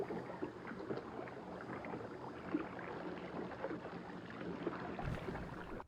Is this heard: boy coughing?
no